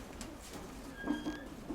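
Pigeons coo softly inside a dovecote, a few low murmuring calls rising and falling against a quiet indoor background, with no talk.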